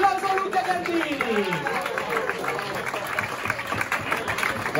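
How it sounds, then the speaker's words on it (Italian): Basketball fans in an arena applaud a player with a steady, dense wash of clapping and crowd noise while a voice speaks over the top. "Un applauso a Luca Gardini!"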